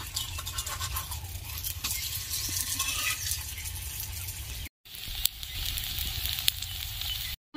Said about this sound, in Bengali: উল্টিয়ে পাল্টিয়ে ভালো করে মিডিয়াম আঁচে ভেজে নিলাম